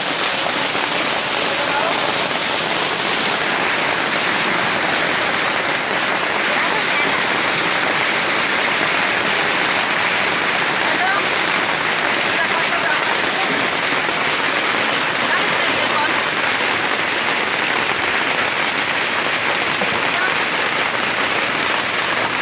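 Steady, heavy rain pours without pause, a dense hiss of drops hitting a surface throughout.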